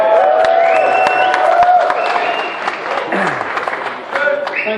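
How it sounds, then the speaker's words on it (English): A small concert crowd gives a short round of applause with a few whoops, loud and close, while a guitar is tuned and a voice speaks briefly over it. "Thanks for the wee clap."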